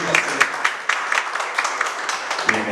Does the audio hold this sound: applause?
yes